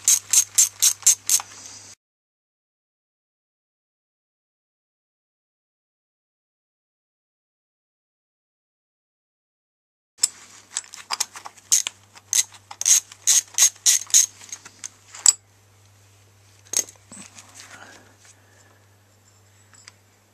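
A ratchet with a 10mm socket undoes the front brake caliper cover on a Honda CB200 motorcycle, giving close, crisp rapid clicking in bursts, a short burst, a long silence, then a longer series of clicks.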